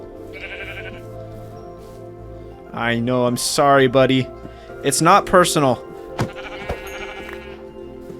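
Minecraft sheep bleat in short nasal calls early and again late, spaced between stretches of someone talking over soft game background sound.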